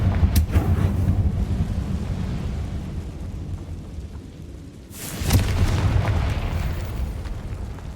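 Confringo spell explosion in Hogwarts Legacy, a couple of booming blasts amid rumbling game sound, the strongest landing midway and fading into a low roar.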